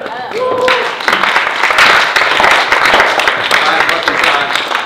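An audience in a lecture hall applauds the light technicians, a dense, even wash of clapping held for about five seconds, with brief voices and whoops audible over it.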